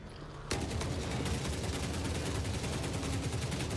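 Sustained automatic gunfire erupts suddenly in the video game Forever Winter, a dense rapid burst that keeps hammering loud and close after a quiet start.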